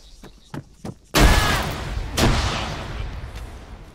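A grenade explodes during military MOUT urban training: a few sharp thuds, then a sudden loud close blast with a long rumbling tail, a second boom about a second later, decaying slowly.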